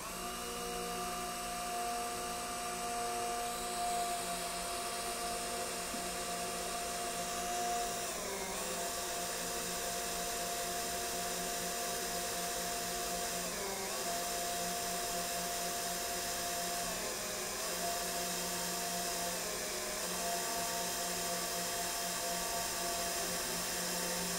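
A Makita 18V cordless screwdriver drives screws in a timed test, a steady high-pitched motor whine held for over twenty seconds with slight periodic dips in pitch, fairly faint and with no voices.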